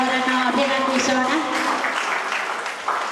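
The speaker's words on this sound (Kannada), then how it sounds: "ಜೋರಾದ ಕೈ ಚಪ್ಪಾಳೆಯ ಮೂಲಕ ಅವರನ್ನು ಅಭಿನಂದಿಸೋಣ." Audience applause at a Dashama celebration and Women's Day event, a steady wash of clapping that carries on throughout, with voices talking over it near the start.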